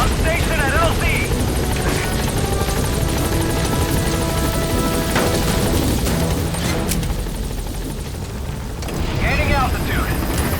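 The Pequod helicopter in Metal Gear Solid V drones loudly and continuously with a heavy rotor rumble as it reaches the landing zone, while radio voices speak over it.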